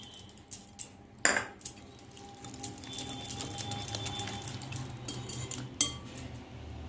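A spoon whisks through Maggi pancake batter with chopped chilli and onion in a bowl, giving sharp clinks against the rim and soft scraping strokes, quiet and close, with a few louder knocks.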